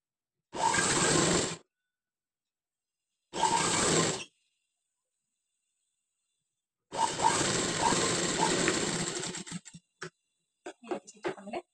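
A sewing machine runs a stitch along the folded edge of beginner patchwork fabric, with two short whirring bursts followed by a longer steady run that breaks into scattered clicks and handling knocks.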